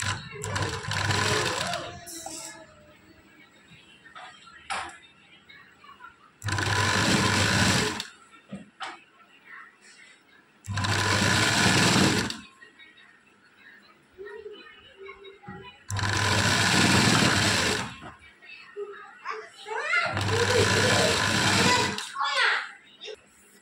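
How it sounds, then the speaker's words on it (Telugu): A sewing machine stitches around a blouse back neck in five loud, close bursts of rapid whirring needle runs, separated by pauses where someone talks. "ఇక్కడ నుంచి ఒక స్టిచ్ అనేది వేసుకుందాం"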